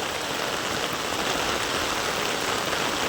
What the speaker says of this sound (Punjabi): ਬਹੁਤ ਜ਼ਿਆਦਾ ਜ਼ੋਰ ਨਾਲ ਮੀਂਹ ਪਈ ਜਾਂਦਾ